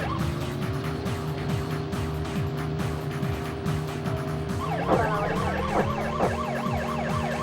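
A person imitates a fire truck siren vocally, a rising and falling wail over steady engine-like drone, continuous and fairly loud, with a game soundtrack of a police driving game underneath.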